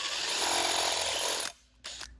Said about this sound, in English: So I need to drill the holes in the bracket a little bit bigger so these rib nuts can pass through it